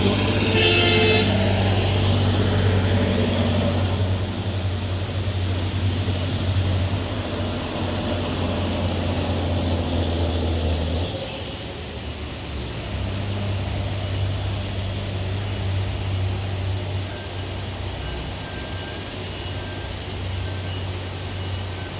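An Isuzu truck reverses back down a slope. A loud, continuous engine drone carries a steady low tone, dips for a moment midway, then picks up again.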